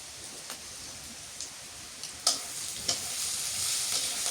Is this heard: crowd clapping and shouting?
no